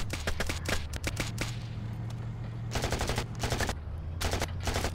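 Rapid automatic gunfire in a Rec Room PvP match, loud repeated bursts of shots over a steady low hum, continuing almost without pause.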